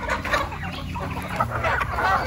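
Chickens cluck and fuss close by in an eager group, with overlapping soft clucks and a few sharper calls.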